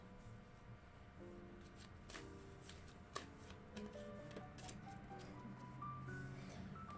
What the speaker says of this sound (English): Let's do some open shuffling, honestly.